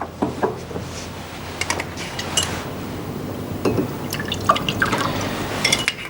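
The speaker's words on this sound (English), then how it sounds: "Let me pour you a drink." A drink is poured into a glass, with a trickling, dripping flow and a few light glassy clinks scattered through a steady quiet room tone, close and fairly soft.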